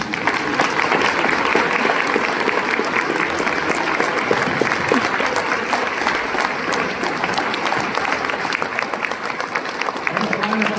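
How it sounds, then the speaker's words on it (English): An audience applauds loudly and steadily after a pro-life speech, with dense continuous clapping throughout and a crowd murmur beneath it. "round of applause."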